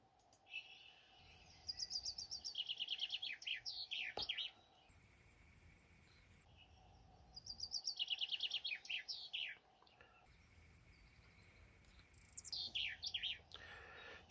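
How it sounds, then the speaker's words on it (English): Chaffinch song played back from a bird identification app: bright descending trilled phrases, each ending in a quick flourish, repeated three times with short pauses between them, fairly clear against faint background. "Chaffinch."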